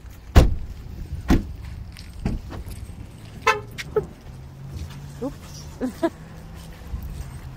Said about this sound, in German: Die Ami-Autos hupen ja immer, sag ich.